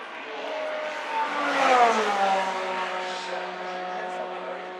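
A distant 2018 Indy 500 race car easing off the throttle on the Bump Day track, its engine note dropping in a smooth drone that swells slightly as it passes before settling, with a commentator talking over it.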